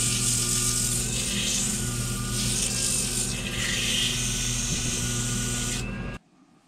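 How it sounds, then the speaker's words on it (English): Steady, continuous sanding of a wooden mouthpiece, a close, even abrasive rubbing that runs without pause for about six seconds and then stops abruptly. "it's all got to be sanded as well"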